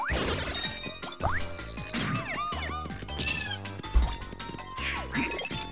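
A giant cat robot in Super Paper Mario lets out repeated loud, bending electronic meows mixed with clanks, crashes and game chimes, busy and close throughout.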